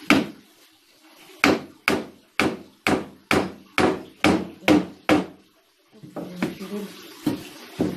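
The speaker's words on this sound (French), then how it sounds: "Je vais le clouer comme ça, ça va faire." A hammer drives a nail into wood for a natural birdhouse with eight evenly spaced, sharp, ringing blows, followed by a few lighter, irregular taps, close by.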